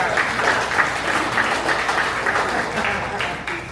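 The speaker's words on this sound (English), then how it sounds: "Give yourselves a round of applause." Steady applause from a comedy showcase crowd in San Antonio, with faint voices mixed in, continuing at an even level throughout.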